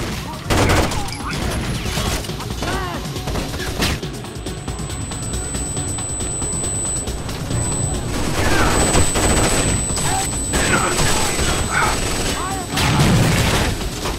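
A frag grenade blast and gunfire in Rainbow Six Vegas 2, heard as dense, continuous shooting and booming combat under voices.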